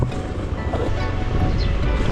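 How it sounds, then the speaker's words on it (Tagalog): Strong flowing water and waves at a campsite on a farm, a steady, loud, continuous rush with wind buffeting the microphone and no voices. "malakas yung tubig"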